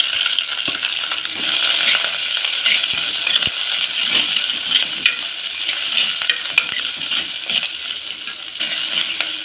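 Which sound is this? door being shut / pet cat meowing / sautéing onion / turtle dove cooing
sautéing onion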